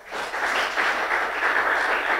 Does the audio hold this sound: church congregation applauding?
yes